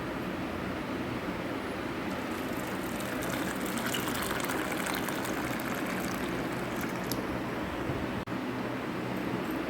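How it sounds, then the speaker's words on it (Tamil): Hot water pours steadily over one and a half cups of almonds set to soak for almond halwa, a continuous close gushing stream lasting throughout with no talk. "இப்போ வந்து இதை நம்ம ஹாட் வாட்டர் போட்டு ஊற வச்சிடலாம்"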